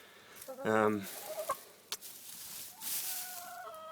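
A few short hen clucks from inside a portable chicken tractor near the start, then faint scattered noises and a thin chirp, mostly quiet with soft background sound.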